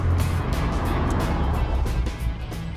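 A DeLorean with a 2.8-litre V6 engine driving, a steady close engine drone with rushing road and wind noise and small pulses in the roar, no speech.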